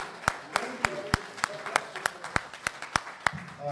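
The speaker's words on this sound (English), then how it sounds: "Please welcome him with the applause." Evenly spaced single claps ring out at a fundraising event, about a dozen sharp hits in a steady rhythm over a murmuring room and some voices.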